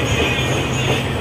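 A passenger train, the Ganga Satluj Express, rumbling steadily as it pulls away, with a continuous low roll of wheels and carriage noise close by for about a second.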